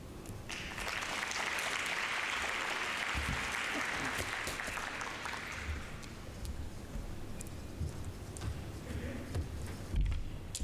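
An audience at a youth supply chain management workshop claps after a presentation: a dense burst of applause that holds for several seconds, then thins out to scattered claps and room noise.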